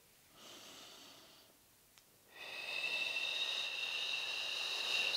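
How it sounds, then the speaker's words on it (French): Deep breathing during a Pilates abdominal exercise, a long airy inhale followed by a stronger, steady exhale close to the microphone, with no talk. "fait des grandes respirations pour aller chercher les muscles profonds"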